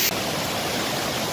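Glacial meltwater stream rushes steadily in warm weather, a close, dense, broadband roar of flowing water with no talk over it.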